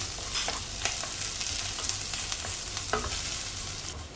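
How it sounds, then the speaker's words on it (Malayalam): Chopped ginger and small shallots sautéing in a pan, a dense, steady sizzle with occasional sharp crackles and spoon-stirring scrapes, close up and without voices. "ഒരു ചെറിയ കഷ്ണം ഇഞ്ചി ചെറുതായിട്ട് അരിഞ്ഞത് കൊച്ചുള്ളി ഒരു എട്ട് പത്തെണ്ണം എടുത്തിട്ടുണ്ട് ചെറുതായിട്ട് അരിഞ്ഞത് അതും കൂടെ ചേർത്ത് നമുക്ക് നന്നായിട്ടൊന്ന് വഴറ്റിയെടുക്കാം"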